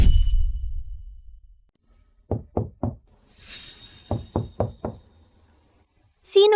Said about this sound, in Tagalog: Sino yan? Ang lakas ng katok?